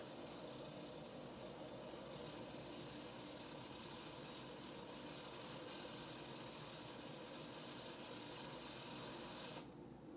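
An Instant Pot pressure cooker in a home kitchen hisses steadily while working, a continuous soft airy noise that runs on evenly and then cuts off near the end.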